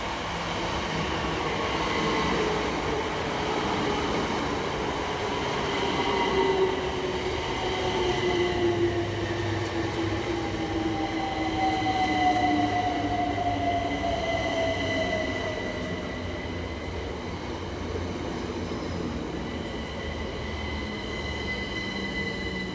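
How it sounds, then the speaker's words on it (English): Two coupled Southeastern class 376 electric passenger trains, 376014 and 376032, roll into a station on the Hayes line, wheels squealing with falling pitched whines over a steady rumble of rolling stock, fairly close and with no talk. "Next arriving into the station is 376014 and 376032, working the 1117 Southeastern service from Hayes through to London Charing Cross."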